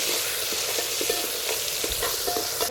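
Chopped onions sizzle steadily in fully heated oil for a village-style chicken sambar, with a continuous hiss and soft stirring knocks throughout.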